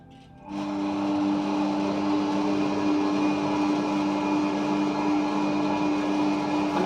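An electric mixer runs at low speed through chocolate cake batter made with cocoa and baking powder, starting abruptly and then holding a steady, moderately loud motor whine with no talk.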